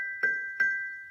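Glockenspiel bars tapped softly with the flat disc side of a mallet, plastic and rubber heads; two gentle, muted strikes with a clear pitched ring sustaining between them, quiet and close with no talking.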